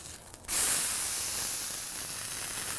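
An 80-20 ground chuck burger patty hits the hot surface after a flip, bursting into a loud, sudden sizzle that holds as a steady, bright hiss.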